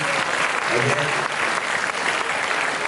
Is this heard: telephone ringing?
no